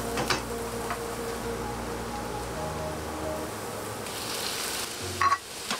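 Shirataki rice stir-fried in a hot pan, a steady close sizzle with faint stirring and a short louder clatter of utensil near the end.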